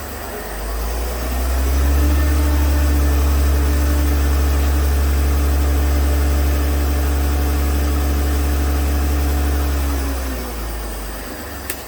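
A 2008 Mercedes ML320 engine, undergoing wastegate actuator replacement, idles with a steady low rumble and a smooth, even hum close by, holding constant for several seconds before easing off, with no voices.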